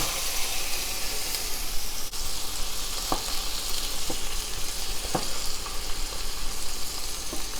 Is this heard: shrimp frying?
yes